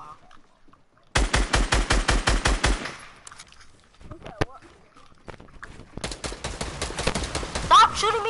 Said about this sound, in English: Stop shooting me down, kid!